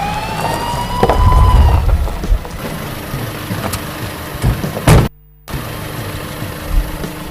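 A car alarm siren wails briefly at the start with rising tones over a rumbling engine, then gives way to a noisy rumble that cuts out for a moment before continuing.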